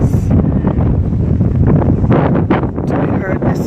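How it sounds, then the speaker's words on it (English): Strong wind gusts batter the microphone on a blustery outdoor day, a loud, continuous rumbling roar with brief dips and surges. "It's a windy day today"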